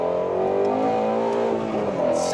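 A Shelby GT350R's engine revs hard as the car climbs a hill, a loud close-up engine note that holds and swells steadily with no speech over it.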